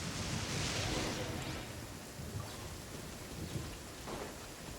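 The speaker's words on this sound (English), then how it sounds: "Lightning storm!" A lightning storm in the video game Genshin Impact brings a dense, steady wash of heavy rain with low rumbling thunder underneath, filling the whole scene without pause.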